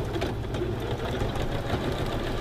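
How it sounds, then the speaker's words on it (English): Sewing machine stitching quilt pieces, a steady close mechanical whirr with rapid regular needle clatter running continuously throughout. "now I'm going to quickly just sew the exact same thing on the other piece"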